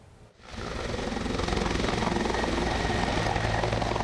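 An Indonesian Army aviation helicopter evacuates residents from Kiwirok district in Papua. Its engine and rotor roar starts abruptly and then holds steady, loud and close, with a dense chopping texture and no talking.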